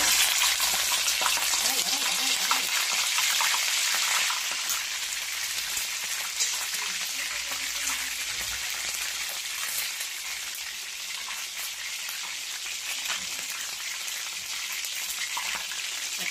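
Chicken pieces fry in hot cooking oil for spicy buttered garlic chicken, a loud, dense, continuous sizzle and crackle up close that eases slightly partway through, with no talk.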